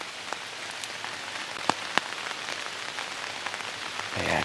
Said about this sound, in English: it's still pretty dark out because it's been raining all night